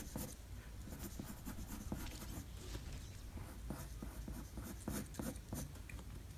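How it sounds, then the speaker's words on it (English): A pencil scratches and sketches on paper while drawing a Venom figure, quiet close strokes in quick irregular bursts of rough back-and-forth scribbling. "switch my pencil to get a little bit more rough sketching going on"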